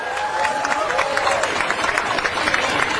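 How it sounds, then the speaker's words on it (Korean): Crowd applause greeting a speaker at a Korean political rally, a steady wash of clapping with cheers from a large gathering, close and continuous for the whole span. "여러분, 신에서 신을 박수로 맞아주십시오."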